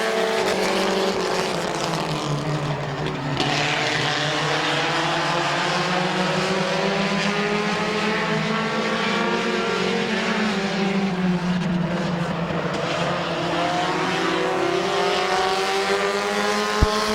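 Race cars roar around the oval at Midvale Speedway in July 2017, several engines droning together loudly and continuously with rising and falling pitch as they circle.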